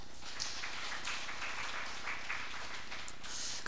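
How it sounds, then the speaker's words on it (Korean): A church congregation gives a round of applause after a prayer, a dense, even wash of clapping from many hands that holds steady at a moderate distance. "영광의 박수 올립니다."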